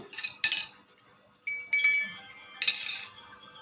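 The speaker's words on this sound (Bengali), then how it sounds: "এই যে আমাদের 4 কাপের চা, সবাই চামচ নিয়ে নাও" Four cups of tea with spoons give off bright, sharp clinks of metal against ceramic in three quick clusters, close and fairly crisp, with quiet pauses between them.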